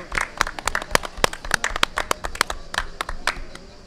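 A small audience at a Festival Off d'Avignon show claps after a performance, distinct individual handclaps in an uneven, sparse rhythm, fairly close.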